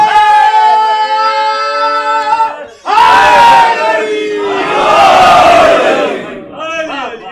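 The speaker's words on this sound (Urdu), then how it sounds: "یہ نعرے لگا رہے ہیں" A crowd chants religious slogans such as Ya Ali at a celebration of the birth anniversary of Hazrat Abbas, with loud sustained voices in unison, a brief break, then a second louder surge of massed shouting.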